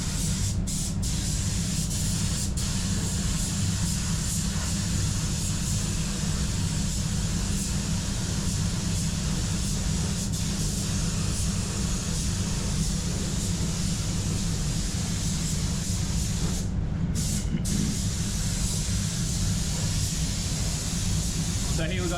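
A DV1 C2 1.3 spray gun lays down PPG LVC 136 clear coat thinned with 420 thinner on a Mazda 3 in a spray booth, a steady continuous hiss with low booth rumble for the whole stretch, briefly pausing once near the end.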